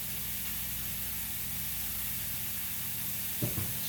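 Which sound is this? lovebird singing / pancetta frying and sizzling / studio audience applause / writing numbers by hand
pancetta frying and sizzling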